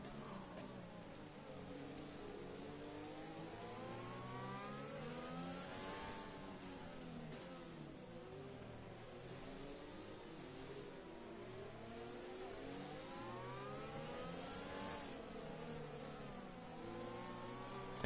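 Multiple F1 cars in a racing video game rev and accelerate away together at a virtual safety car restart at Hungary, a steady layered engine whine with rising and falling pitch sweeps that continues without a break.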